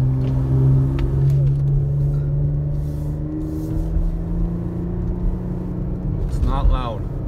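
A Porsche Macan engine with its muffler deleted revs steadily higher in second gear, power shift mode, with a rising, droning pitch toward redline, loud and close, with a brief whistle of boost near the end.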